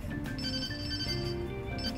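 Phone ringing in the Persona 5 video game, a soft repeating electronic ringtone that plays steadily for two seconds at low volume, with no voices over it.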